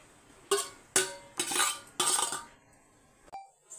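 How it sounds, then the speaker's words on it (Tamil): Cooked dish being mixed into rice in a pan: four distinct metal clanks of a spoon against the pan, each followed by brief scraping and stirring, then a lighter clink near the end. "இப்போ இதில் கொஞ்சோண்டு நம்ம எடுத்துகிட்டு சாதம் மிக்ஸ் பண்ணிக்கலாம்."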